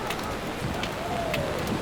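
Monsoon rain falling by the sea in Mumbai, a steady dense hiss of drops close by, continuous and fairly loud, with faint bird calls and soft background murmur mixed in.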